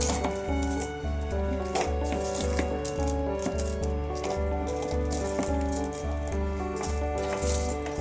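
A steady stream of coins from a broken piggy bank clinking and rattling as they spill and pile up, continuous jingling close by with no voices.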